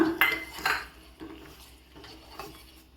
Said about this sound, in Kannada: ಇವಾಗ ಇದರಲ್ಲಿ ಈ ಪೂರ ಸಕ್ಕರೆನ ಆ್ಯಡ್ ಮಾಡ್ಕೊಳ್ಳೋಣ